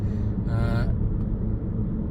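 Road traffic rumbles past steadily and fairly close, a continuous low drone with a brief higher tonal swell partway through.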